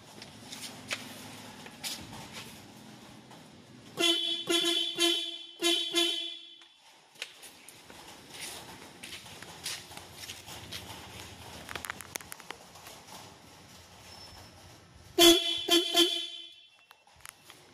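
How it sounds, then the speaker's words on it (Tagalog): A newly installed dual car horn blasts in short bursts, a few quick honks, a pause, then another blast, between quieter clicks and handling noises. "Mamaya pagka tinesting na natin yung ating busina"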